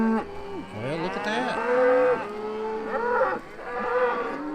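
Cattle on a farm mooing loudly and close, several long drawn-out lowing calls overlapping one after another with no talking.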